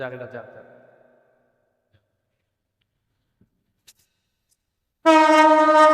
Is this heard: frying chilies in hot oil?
no